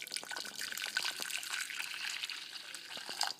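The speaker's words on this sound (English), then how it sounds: "Put some boiling hot water in here." Boiling hot water poured into a container while cheese and chilli bites are made, a steady close splashing trickle that runs without a break.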